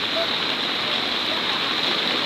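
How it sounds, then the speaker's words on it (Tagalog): Strong floodwater current from the mountains rushes in a loud, dense, continuous roar, close and steady throughout. "Nahihirapan silang tumawid kasi malakas yung agos ng tubig galing bundok po."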